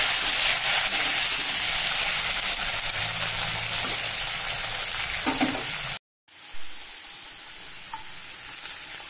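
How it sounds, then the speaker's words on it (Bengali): Cut potatoes frying in hot oil in a pan for a Bengali oyster curry, producing a loud continuous sizzle with some stirring scrapes, then a brief drop to silence before a quieter sizzle resumes. "এবারে কেটে রাখা আলুগুলো আমরা দিয়ে দিলাম। এটাও খুব ভালো করে ভেজে নেব।"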